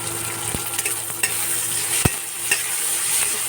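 Tomato sizzles in a hot pan for dal, a steady frying hiss broken by a few sharp clinks of stirring.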